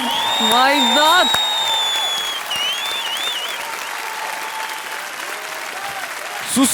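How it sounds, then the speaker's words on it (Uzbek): Applause from a television singing-contest audience after a duet performance, with steady crowd clapping, some cheering and a host's amplified voice speaking over it. "Susanna Shukrullo olqishlab qo'yamiz."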